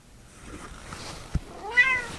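A single cat meow rises and falls near the end, preceded by a soft tap in a quiet room.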